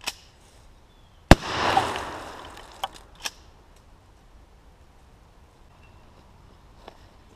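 A 12-gauge shotgun fires a homemade beanbag shell in one sharp, loud report that trails off into a short rumbling echo outdoors, followed by a few fainter clicks and knocks.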